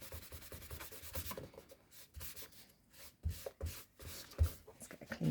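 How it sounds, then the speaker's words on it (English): Kitchen roll rubs and buffs over greasy paper coated with Brusho resist, making soft, close, irregular scrubbing strokes with brief pauses between them. "Takes quite a bit of buffing up afterwards."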